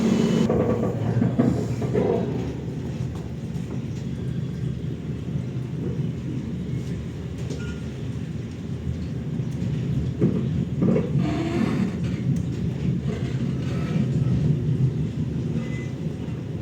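Inside the KA Lodaya night train from Solo heading toward Bandung, travelling on single track past Kroya, a continuous deep rumble of wheels on rails, with occasional knocks and swells as the carriage rolls on.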